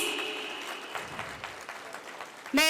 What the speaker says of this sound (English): Let's celebrate their efforts with a huge applause.